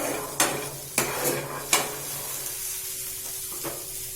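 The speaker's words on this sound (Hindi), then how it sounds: "अब ये चना आधा पक गया है, इसे थोड़ा चला ले।" A utensil scrapes and knocks against a pan as half-cooked soaked chickpeas are stirred over a soft sizzle. Three clear, close strikes come at a steady pace, followed by quieter stirring.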